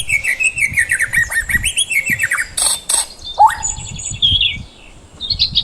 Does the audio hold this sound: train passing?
no